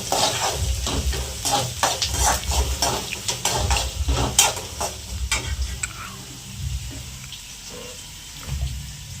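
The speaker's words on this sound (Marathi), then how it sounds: "आता कांदे लाल होण्यापुरता परतून घ्यायचे" Onions being sautéed in a pan for poha sizzle steadily while a utensil scrapes and stirs in quick bursts, then the sizzle settles to a softer, quieter crackle.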